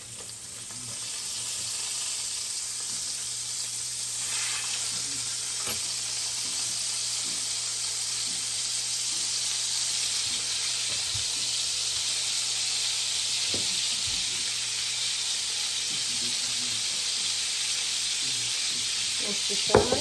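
Hamburger patties and bacon pieces sizzling in a pan, a loud unbroken frying hiss with scattered small pops and clicks, close up and swelling slightly over time, no talking.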